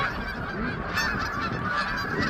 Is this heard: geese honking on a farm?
yes